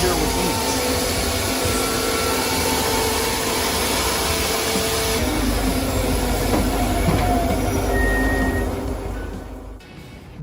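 A TM1200 firewood processor with a 22 kW electric motor hums in a steady, loud whirring drone that holds for about nine seconds and then falls away near the end, with a voice talking over it.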